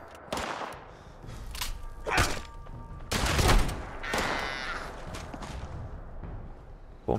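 Shotgun blasts in the post-apocalyptic Appalachia setting of a first-person video game: several loud, sharp booms spaced a second or so apart, with thuds and rustling between them.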